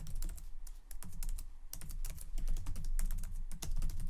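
Rapid, uneven clicks of fingers typing on a computer keyboard while entering a line of Java code, close and clear with short pauses between bursts of keystrokes.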